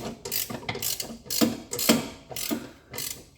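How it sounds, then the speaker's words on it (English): A gearbox jack is raised under a Vauxhall Insignia with rhythmic ratcheting clicks and mechanical clunks. Each pump stroke comes in a steady, close cycle. "And we'll get the gearbox jack again."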